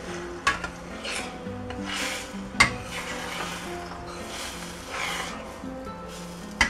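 Beaten eggs scrambled in a skillet, a soft scraping and gentle low sizzle as they slide around, with a few sharp utensil clicks against the pan, quiet and close.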